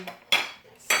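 Cutlery scrapes and clinks against a plate while a chicken-stuffed omelette is sliced, two sharp bursts of metal-on-ceramic sound separated by a quieter stretch, close and fairly loud.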